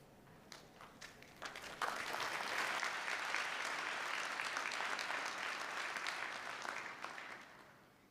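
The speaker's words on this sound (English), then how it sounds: "Please raise the roof with a deafening round of applause." Applause for a graduating class at a December graduation ceremony, starting with scattered claps and then swelling into a full, steady ovation that slowly fades.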